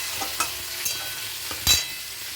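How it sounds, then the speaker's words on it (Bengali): Spice paste stirred and fried in a pan for a Bengali fish curry, a soft steady sizzle with a few brief scraping stirs, the loudest near the end, close and alone with no talk. "এবার নাড়িয়ে চাড়িয়ে দিলাম। মশলাটা কষে যাবে"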